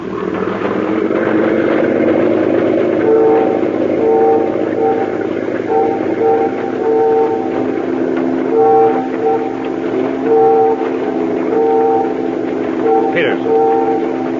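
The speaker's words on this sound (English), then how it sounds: "Those ferry whistles. They're signaling us." A radio drama effect of ferry whistles sounding a run of short and long tones in a Morse-code pattern, repeating over a steady low motor rumble, with no voices.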